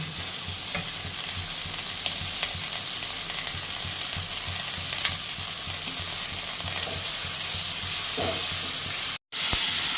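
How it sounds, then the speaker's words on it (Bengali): Potato, pumpkin and ivy gourd stalks fry together in a pan with a steady, close sizzle, punctuated by occasional stirring clicks and scrapes, and a brief gap near the end. "এবার দিয়ে দেবো ডাটিটা তেলাকুচু শাকের ডাটিটা আগে এই তরকারির সঙ্গে ভাজা ভাজা হবে"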